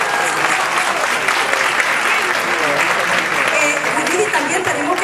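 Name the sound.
audience applause at awards ceremony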